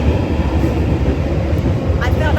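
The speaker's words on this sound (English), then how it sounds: "is a loud train." A loud, steady rumble of a train passing close by, with a dense mechanical roar that doesn't let up.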